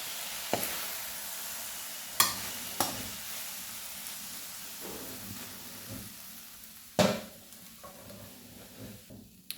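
Holy basil and beef shank stir-fry in a hot pan, a steady sizzle with a few sharp scrapes and clanks of the spatula as the food is tossed.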